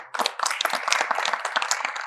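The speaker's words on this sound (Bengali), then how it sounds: "তাদের জন্য একটা বড় হাততালি।" An audience claps for the crew of a stage play by a Bengali theatre group, loud, dense applause that starts sharply and continues steadily to the end.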